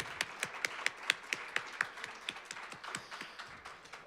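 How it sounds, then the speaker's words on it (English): A small audience at a forum on bail claps in a sparse, distinct rhythm, individual hand claps spaced and fairly near, thinning toward the end. "Let's give James one more a round of applause."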